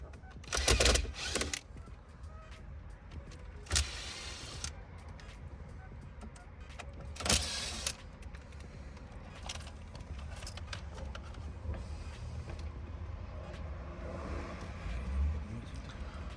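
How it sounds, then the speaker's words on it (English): Screws coming out of a Hyundai Equus dashboard during disassembly of the 9.2-inch screen dash, heard as scattered close metallic clicks and rattles, with a few louder clinks standing out over a low steady background hum. "Now we're going to remove the 4 screws."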